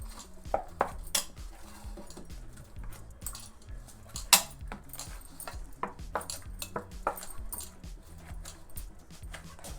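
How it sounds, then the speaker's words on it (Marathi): Hot ragi dough pressed and kneaded with a bowl or cup on a plate, making scattered metallic clinks and scrapes in an uneven rhythm, close and moderately loud, with no talk. "आता पीठ गरम आहे तर एखाद्या वाटीने किंवा पेल्याने ते चांगलं असं मळून घ्यायचं आहे"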